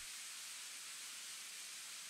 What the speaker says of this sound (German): Ja, nur ein Zischen, ne?